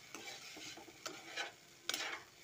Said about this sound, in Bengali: জিরে গুঁড়ো, হলুদ গুঁড়ো, ধনে গুঁড়ো, একটু ভাজা হোক।